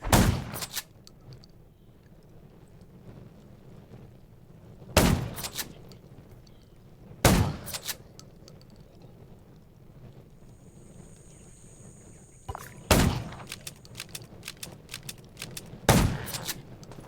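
Loud, sharp gunshots in the video game Undawn ring out one at a time at irregular intervals, five or so blasts separated by quiet rumbling ambience, with a brief high tone partway through.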